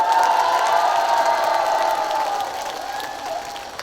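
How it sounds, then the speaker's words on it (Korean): Outdoor festival concert audience applauding and cheering loudly for a singer, a dense wash of clapping and crowd noise throughout that eases slightly toward the end. "자기한테 박수치라고 할 때만 이렇게 박수를 크게 쳐주시고 좋습니다"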